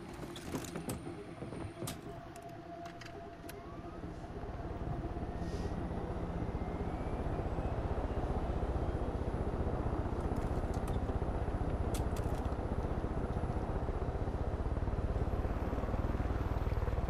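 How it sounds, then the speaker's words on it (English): Helicopter in the video game Far Cry 5, rotor and engine drone building up and then holding a steady, loud, low throbbing roar, with a few mechanical clicks early on. "We have a helicopter."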